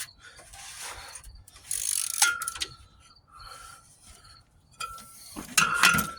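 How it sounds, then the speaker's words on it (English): Worn, dying ratchet wrench clicking and skipping a tooth, with irregular bursts of metallic clicks and rasps at close range, some louder than others, separated by quieter gaps and with no talking. "My ratchet just skipped a tooth."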